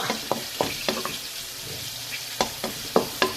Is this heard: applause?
no